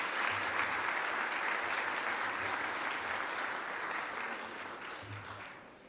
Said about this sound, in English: another big round of applause for our award winners